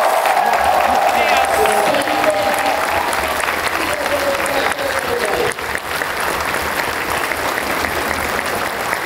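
A crowd at a dance competition claps loudly and continuously, a thick wall of applause with faint cheering mixed in and no break from start to finish.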